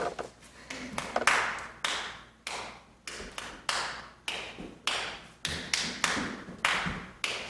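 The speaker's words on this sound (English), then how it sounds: "somebody clap the beat" Hands clap out a steady beat in a room, with sharp, evenly spaced claps repeating about twice per second. The claps are close and loud, and no voices are heard.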